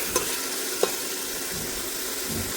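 Cauliflower and peas sauté in a pan with ginger, garlic, coriander and green chilli. A continuous sizzle carries a couple of sharp utensil scrapes, with no talking.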